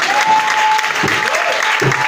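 A church congregation breaks into steady applause, loud and close, with voices mingling in the clapping throughout.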